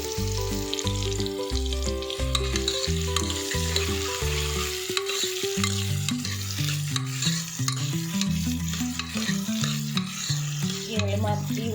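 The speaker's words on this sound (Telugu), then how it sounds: "ఉల్లిపాయ ముక్కలు వేసుకొని బాగా ఫ్రై చేసుకుందామండి." Onion pieces fry with spices in a pan for a ridge gourd mutton curry: a loud, steady sizzle with occasional stirring scrapes, set against a strong repeating musical backing and no voices.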